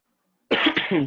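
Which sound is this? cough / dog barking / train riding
cough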